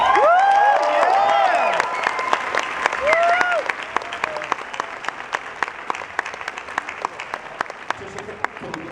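A Comic-Con panel audience bursts into loud applause and cheering for a guest, with voices and whoops over the clapping early on, then the ovation gradually thins to scattered claps.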